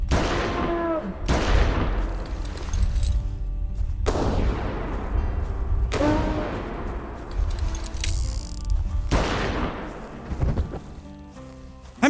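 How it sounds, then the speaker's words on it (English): .700 Nitro Express double rifle shots in a prehistoric-hunting video game: about six heavy, booming reports, loud and close, spaced a few seconds apart, each with a long rolling decay. "when we just shot it with 4 hits from the double barrel 700 Nitro"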